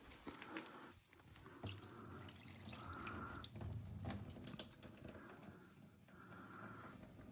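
Condensation water from the oil catch can of a Hyundai Elantra N pours out in a faint, steady trickle and splash, with small drips, close by and without talk.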